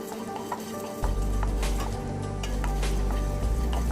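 Spices dry roasting over medium heat in a pan: steady pan noise with soft scraping and stirring, a low continuous sizzle-like hiss and occasional light clinks, close by.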